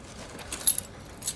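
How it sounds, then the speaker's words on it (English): A set of truck keys jangles briefly, with a few bright metallic clinks up close that peak in the middle and again near the end, against a quiet background. "truck keys"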